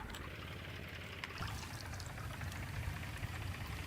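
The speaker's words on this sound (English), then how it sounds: "It sounded like I just refueled the tractor." A tractor being refueled in the farming game Farmer's Life gives a continuous gurgling pour, like liquid running into a tank, steady and moderately close over a low rumble.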